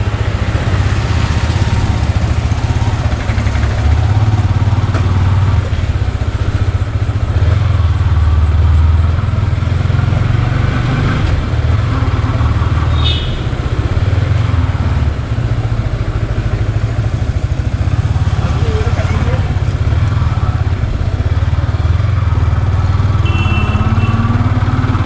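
A Yamaha R15 V4 motorcycle engine runs steadily throughout a night ride, with a constant low rumble and some road and wind noise, loud and close, and no talking.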